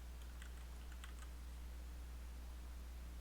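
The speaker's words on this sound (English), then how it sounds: "I'm going to type in Defender" Brief bursts of clicking keystrokes on a computer keyboard, close and quiet, over a low steady hum, then the typing stops and only the hum remains.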